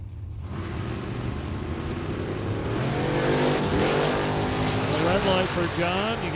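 A Ford Mustang and a Pontiac GTO launch in a drag race, engines roaring loud and close, then rising in pitch as they accelerate down the strip, with a commentator talking over them.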